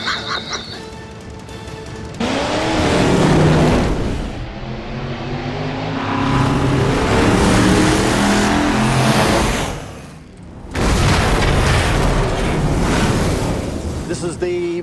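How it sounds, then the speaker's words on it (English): A film vehicle powered by two V8 engines locked together on one shaft roars and revs in long, loud, continuous surges, easing briefly midway before building up again. "It's two V8 engines locked together into one shaft."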